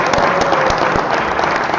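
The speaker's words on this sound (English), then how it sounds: "Can we give her a big round of applause, everybody?" Loud, steady applause from the audience at a Mayor's Night Out held at Irving Elementary School, with close, dense clapping throughout and no speech over it.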